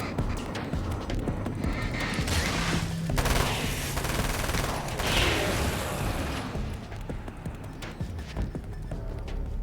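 Rapid bursts of gunfire from Alan Wake's American Nightmare crackle densely and continuously, loud and close, with clattering mechanical sounds woven through the barrage.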